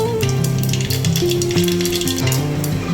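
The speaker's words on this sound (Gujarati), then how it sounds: "તેલ ગરમ થઈ ગયું છે તો રાઈ નાખશું અડધી ચમચી." Mustard seeds crackle and sizzle in hot oil in a pan for a vegetable pulao, a busy spitting patter heard under steady background music.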